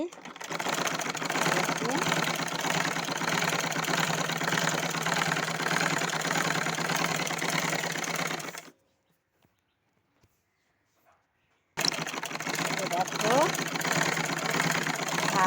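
A sewing machine hums steadily as it stitches along the edge of a piece of fabric, running loud and continuous, then stopping for a few seconds of silence before starting up again.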